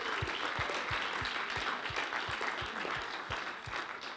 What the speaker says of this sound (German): geben wir doch einen herzlichen Applaus meinem Sohn Ben.